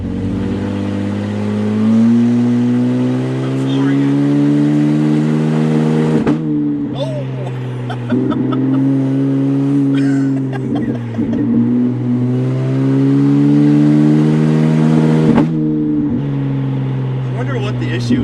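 A flood-damaged BMW, since rebuilt, revs its engine in long, loud, steady runs with a strong harmonic whine. The revs rise and fall in two main sweeps, with short dips between them, and the engine stays close and prominent throughout.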